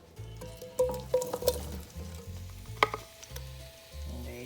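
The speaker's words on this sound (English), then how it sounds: "In our pot, we're going to add in our potatoes" Boiled potatoes hit a hot pot and fry with a soft crackling sizzle, punctuated by thumps and squishy stirring noises nearby, with no talking.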